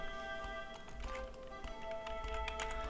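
Rapid clicking of keys on a computer keyboard while entering a name in a Pokémon game, irregular taps in quick bursts over a soft background hum.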